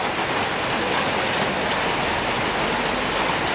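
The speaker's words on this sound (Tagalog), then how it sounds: "Ito ang klase ng ulan na tumatagal o nagtatagal" Light, steady rain falls outside a house under construction, an even, continuous patter and hiss with no breaks, filling the whole scene at moderate loudness.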